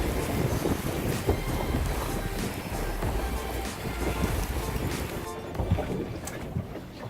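On a single-handed sailboat in Gillingham Reach in a light breeze of about 5 knots, wind buffets and rumbles against the microphone over a constant low rush of water and hull noise.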